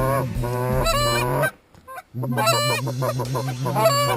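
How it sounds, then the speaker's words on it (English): Canada geese honk repeatedly as they fly in at a goose hunt, loud and close, with overlapping calls that pause briefly in the middle before resuming. "we got 2 honkers coming at us straight ahead"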